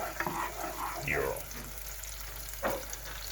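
Diced apples dropped into a pan for tomato sauce, giving a soft sizzle and stirring sounds with a couple of brief clatters, close by and fairly quiet, with no talk.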